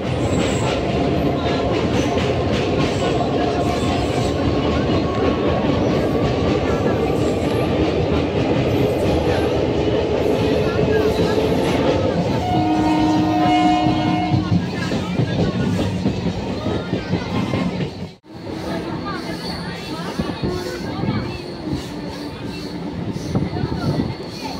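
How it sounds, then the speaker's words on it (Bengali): A passenger train runs steadily across the Ganges bridge with a continuous loud rumble and rattle of the wheels, a few brief tonal squeals in the middle, and a sudden short dip before the rolling noise resumes. "তারপরে দেখো, ট্রেনে আসছি"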